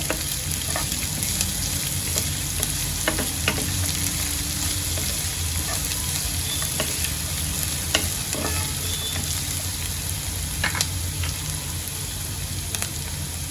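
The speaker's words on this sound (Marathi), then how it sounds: "आता सगळ्यांना तेलामध्ये चांगलं परतून घेते" Slit green chillies frying in hot oil in a pan while making sevai upma, a loud, continuous close sizzle with occasional stirring clicks, heard alone without speech.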